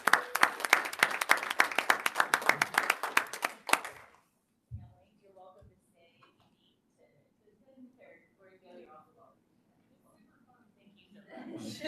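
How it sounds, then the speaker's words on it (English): A round of audience applause at a school board meeting, dense clapping for about four seconds that stops abruptly, followed by quiet room murmur and faint talking, then a brief swell of noise at the end. "If we could just give them one more round of applause."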